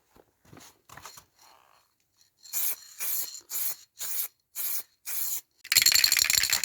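An aerosol can sprays a light coat of clear lacquer onto a Rover 45 car door handle: six short, sharp hissing bursts in steady rhythm, then a longer continuous spray, close and loud with no talking.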